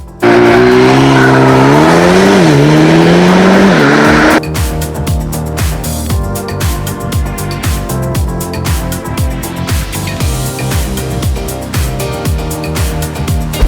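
A Mercedes-AMG A 35 4MATIC launches hard with its Race Start function. The engine revs loudly at first, then a rapid series of upshifts follows as the car accelerates, close and with no talking.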